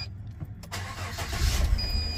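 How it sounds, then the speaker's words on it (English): A car engine turns over and catches during the hardwiring of a backup camera on a GMC/Chevy Silverado, a close, steady rumble building after a brief quiet start, with no talk. "Start the car up."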